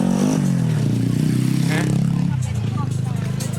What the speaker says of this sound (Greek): Να περάσει ο φίλος με το μηχανάκι από το Μενίδη